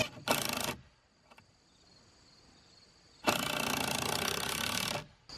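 A power driver sinks 3.5-inch Torx screws into playhouse wall boards: two loud whirring bursts, a short one and then a longer one, separated by a quiet pause with faint handling noise.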